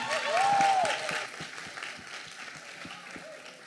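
Church audience at a Verbo Mossoró event applauds in a fairly faint, steady wash of clapping that swells early and then thins, with a voice briefly rising over it.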